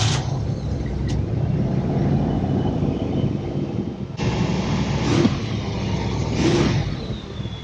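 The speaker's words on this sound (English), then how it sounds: "It is idling a little high." A Cadillac Brougham engine idles steadily after sitting unused for ten years, a constant low rumble that holds fairly loud and even throughout, idling slightly high while warming up, with a faint rise near the end.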